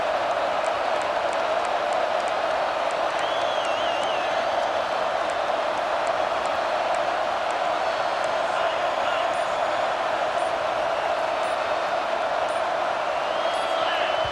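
Constant roaring stadium crowd noise in EA Sports College Football 26, a dense, loud wall of cheering and shouting that holds steady for the whole stretch, with faint whistles on top.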